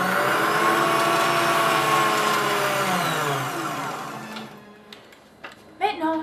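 A sewing machine stitches a sweatshirt with a loud, steady motor whir that winds down and stops, followed by a few brief clicks and a short voice at the end.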